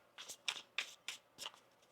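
Tarot cards being shuffled in several quick, crisp riffling bursts, close and quiet, with brief pauses between each pass.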